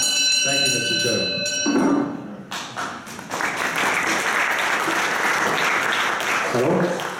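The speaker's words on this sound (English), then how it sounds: "Yes, the audience is allowed to clap." Audience applause after a speaker at a freedom of expression debate event in Coppet, starting with ringing tones and thumps near the microphone, then swelling into sustained loud clapping from the room for several seconds.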